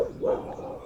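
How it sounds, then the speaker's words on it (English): A single dog bark or yip from one of the puppies, short and moderately close, heard alone in a quiet garage-like setting. "Sorry about the dogs."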